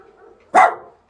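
One short, loud bark from a dog indoors, with a brief tail after it and quiet before it.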